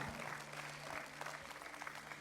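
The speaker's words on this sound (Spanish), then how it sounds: "Denle un fuerte aplauso al Señor, hermano" A church congregation applauds for the Lord, a faint, dense wash of many hands clapping at a distance with a low hum beneath and no clear speech.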